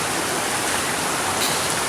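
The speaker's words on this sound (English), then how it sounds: "Alright, so there's the waterfall" Steady, dense rush of a waterfall in The Narrows, close and loud, a continuous broadband roar with no voices.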